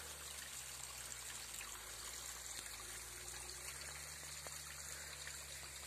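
Elvirin waterfall near Irig on Fruška gora: a steady, dense rush of falling water, unbroken and even throughout, heard alone with no voices.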